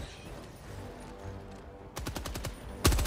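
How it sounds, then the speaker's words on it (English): Video game gunfire aimed at bugs: a rapid burst of automatic shots rattles in quick succession, followed by a louder, heavier blast at the end. "We're shooting at bugs together right now"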